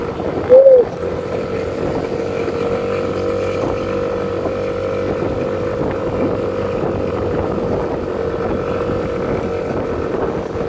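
Steady, heavy, cold wind roar buffeting the microphone at the highest place in the Philippines, a constant low rumble with an engine-like drone underneath and a brief knock near the start.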